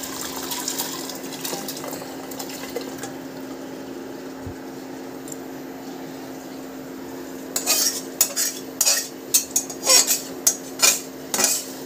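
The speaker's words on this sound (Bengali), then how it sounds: "প্রেসার কুকারে ঢেলে দেবো সেদ্ধ হওয়ার জন্য" Mutton being tipped into a pressure cooker: a quiet stretch with faint scraping, then a run of clattering metal utensil knocks and scrapes against the pot, close and fairly loud.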